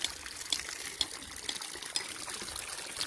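Water runs from the outlet pipe of a sun-powered pump in weak sunlight, a soft, fairly faint splashing trickle with small irregular spurts and no voices.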